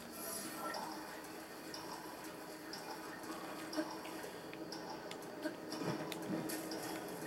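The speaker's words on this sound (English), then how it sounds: "all we're doing is swimming up waterfalls for this one" Rushing, splashing water in Zelda Breath of the Wild at Mikau Lake while swimming up waterfalls, a steady close wash of flowing water with occasional drips and splashes.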